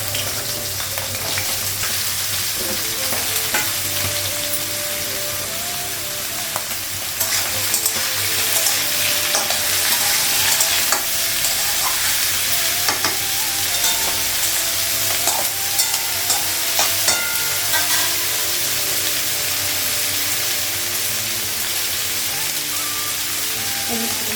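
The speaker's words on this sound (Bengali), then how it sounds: "এদিকে পুঁই শাকটা রান্না করবো আর এদিকে কলাটা রান্না করবো" Green banana and chili frying in a pan, a steady loud sizzle with clattering stirring throughout, in a home kitchen.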